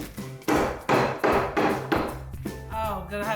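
Four heavy, evenly spaced thuds of hard peppermint candies being smashed through a cloth, each a dull crunching blow, followed by some softer tapping.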